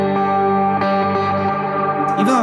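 A clean guitar note run through a reverb pedal with the mix set too high, producing a big washy, echoing wash of sustained tones that smears the attack, followed by a brief effect swell at the end.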